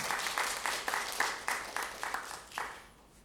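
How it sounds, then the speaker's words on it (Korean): Audience applause at a Korean Buddhist ritual culture academic conference, welcoming an emeritus professor to the podium: dense, steady clapping with no voices, tapering off over about three seconds. "큰 박수로 맞아주시면 감사하겠습니다"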